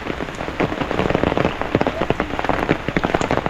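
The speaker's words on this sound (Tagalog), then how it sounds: "Grabe. Ulan." Heavy rain pours down steadily on a surface during a stormy day, a dense, loud patter of many drops striking close by without pause for the whole stretch.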